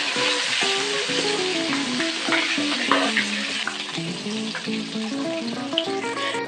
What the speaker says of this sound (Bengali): এবারে আমি সবার প্রথমে খাসির তেলগুলি একটু ভেজে নেব।